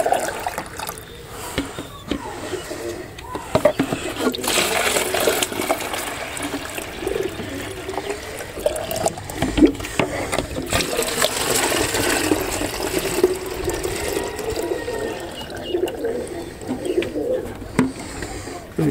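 Water poured into a container and stirred with pigeon medicine, with pigeons cooing steadily nearby and faint splashing and trickling running through the whole stretch.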